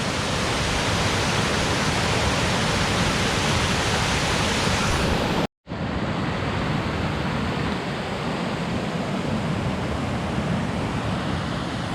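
Steady roaring rush of a huge waterfall in the North Wales mountains of Snowdonia, a dense broadband wash that runs continuously, cut by one brief dropout midway, with no voices.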